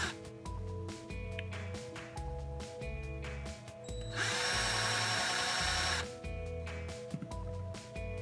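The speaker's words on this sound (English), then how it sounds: "I'll just take a drill and drill an appropriate size hole" A power drill bores a hole for a brass knob in a wooden trinket box, its motor whining in steady bursts with a louder, harsher stretch of cutting through the wood midway.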